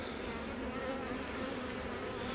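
Honey bees fill an opened hive with a dense, steady buzz, close and continuous throughout, with no voices.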